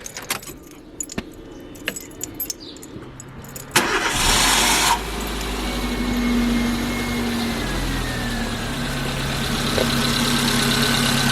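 Keys jangle close by before a 2009 Chevrolet Matiz engine cranks and catches with a sudden burst. It then settles into a steady, even idle hum that continues to the end.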